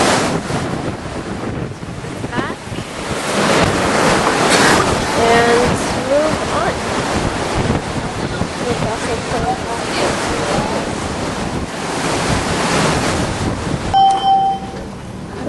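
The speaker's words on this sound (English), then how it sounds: "Pretty darn windy." Strong wind buffets and roars across the microphone aboard a cruise ship over surging sea and waves, with people talking intermittently beneath the gusts.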